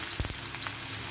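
Potato pieces fry in hot oil, a continuous close sizzle with a couple of brief soft stirring thumps near the start.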